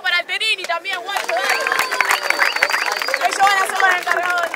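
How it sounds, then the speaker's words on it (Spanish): Crowd at an Invasión Rapper freestyle rap battle event claps and cheers in a dense, steady wash of applause and hubbub that fills the space after a brief burst of voices at the start. "un fuerte aplauso para Alterini también"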